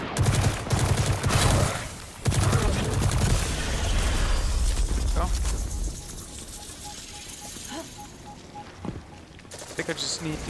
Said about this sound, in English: It's a submachine gun.